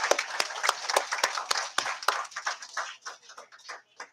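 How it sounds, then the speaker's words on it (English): Audience at an elementary school visitation by House representatives applauding: a brief burst of hand clapping, crisp and fairly close at first, then thinning into scattered claps before fading. "Give them a round of applause, please."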